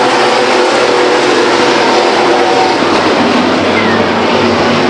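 Race trucks at Stockton 99 Speedway thunder past as a loud, dense wash of engine noise, continuous and close for the whole stretch.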